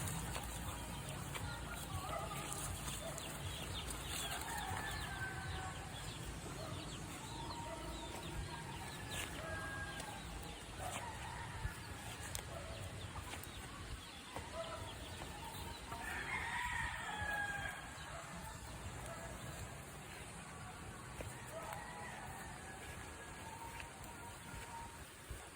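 Chickens cluck and chatter steadily while a rooster crows now and then, fairly distant, over a faint outdoor hum.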